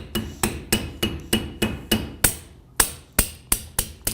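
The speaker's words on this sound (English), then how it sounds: "using a hammer" A hammer drives a male truss bearing into position on a truss, striking about a dozen sharp, evenly spaced metallic blows close up with no talking.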